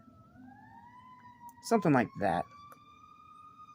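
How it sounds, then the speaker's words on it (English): Sirens wail steadily outside a door, a gliding tone that rises and falls slightly at moderate distance throughout, with someone briefly speaking over it. "I apologize for the loud sirens outside of my door"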